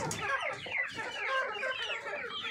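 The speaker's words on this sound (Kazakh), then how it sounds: "Так, міне тауықтарым." A flock of hens and chicks being fed chopped apple, clucking and squawking continuously and fairly loudly, with overlapping close calls.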